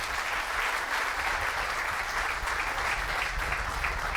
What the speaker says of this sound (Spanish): Así que denle un fuerte aplauso al Señor,